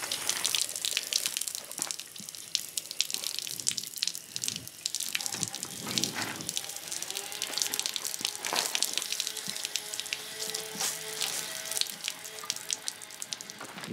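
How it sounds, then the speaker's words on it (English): A gentle, low-pressure stream of water rinses soap off a Suzuki DT 25 HP outboard motor, a steady splashing and trickling with irregular spatters, close and continuous, with no talk. "just a little bit of stream of water"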